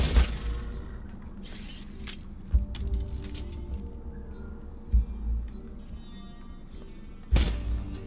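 Deep booming Borderlands 2 video game cannon shots go off at intervals, four heavy thuds over a low rumbling background.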